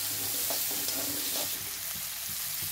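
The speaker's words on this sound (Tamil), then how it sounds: "ஆயில் சூடானதும் ஆனியன் ஆட் பண்ணிக்கலாம்" Onion fries in hot oil for a colourful pasta, with a close, steady sizzle and a few soft stirring scrapes, and no talking.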